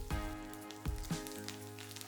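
Urad dal, chana dal, green chilli and curry leaves sizzling in hot oil in a kadai, a soft steady hiss broken by a few sharp pops and crackles, quiet and close.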